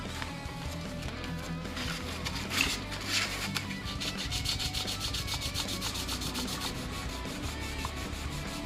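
Sanding a plastic part of a Damocles Rhino tank model kit, a steady close scratchy rasping that runs continuously in rapid back-and-forth strokes with no talking.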